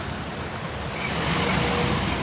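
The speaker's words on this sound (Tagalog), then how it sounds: "maraming mga sasakyan" Steady road traffic by a busy pedestrian crossing at Burnham Park, with several vehicles droning and passing continuously at moderate distance, a constant broadband rumble with no talk.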